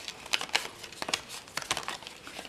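A paper card being folded along its score lines, a quiet series of soft crinkles and crisp creasing snaps, close and unaccompanied by speech.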